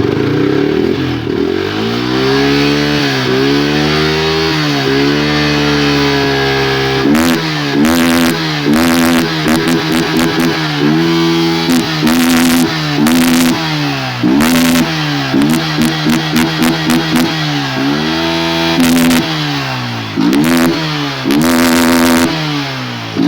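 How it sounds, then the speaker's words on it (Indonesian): Yamaha Vixion motorcycle with an old-model ported engine revving to high RPM, a loud, close engine drone that climbs and falls, then breaks into repeated sharp blips with rattling clatter. "kita mau tes geber RPM nya dulu kayak gimana rasanya"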